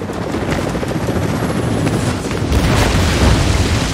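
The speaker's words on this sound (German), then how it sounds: "Hä, noch ein Heli?" A helicopter in the video game Rise of the Tomb Raider gives a loud, continuous rotor roar with steady rumbling chop that swells slightly toward the end, with no talk over it.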